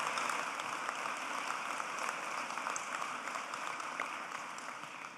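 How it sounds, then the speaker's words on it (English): Sustained applause from a commencement audience, a steady dense patter of many hands clapping evenly throughout, fading slightly at the end. "While we're clapping"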